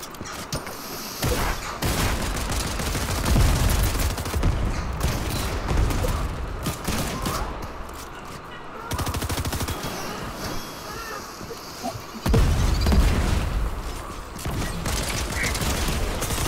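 Shotgun and other gunfire in a video game, loud bursts of shots and mechanical clatter running almost continuously with brief drops in between.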